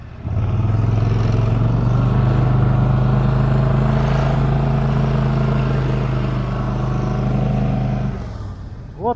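The engine of an SM-002 snowmobile drones loud and close as it rides steadily across a snowy slope, holding a sustained rough roar that eases off near the end.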